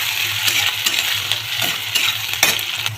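Green chilies and potatoes frying in a pan for sabudana khichdi, a constant soft sizzle broken by sharp metallic clinks and scrapes of a spoon stirring, with no voices.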